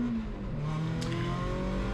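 A rally car accelerates hard on a tarmac rally stage at the Rajd Barbórka Warszawska 2022, its engine note loud and close for the whole stretch with a brief sharp burst partway through, no talk over it.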